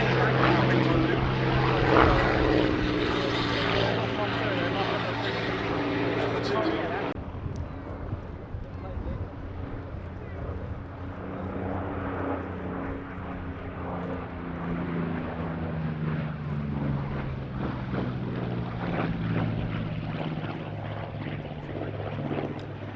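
Two Yak-52 propeller aircraft flying at the Duxford airshow, a loud buzzing engine drone that drops away abruptly and continues more distantly with shifting pitch, under a commentator's voice over the public address.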